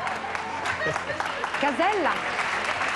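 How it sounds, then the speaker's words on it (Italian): A studio audience at a 1991 Italian television show applauds in a continuous, even roar while a voice speaks over it, with rising and falling tones. "Prendi l'applauso del pubblico."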